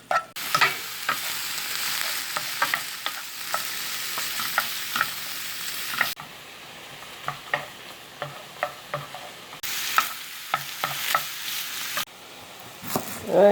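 Bacon strips sizzle and fry in a pot on medium heat for a slow-cooker beef and beer stew, with repeated close scraping stirs cutting through a steady hiss.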